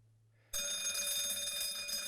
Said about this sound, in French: une sonnerie assourdissante vient rompre le murmure ambiant de la salle de classe